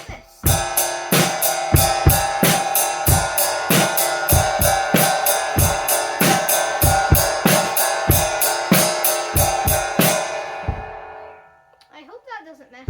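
A drum kit plays a chorus beat: a loud, steady groove of regular kick and snare strokes under ringing cymbals for about eleven seconds, then the cymbals fade out and a voice follows briefly.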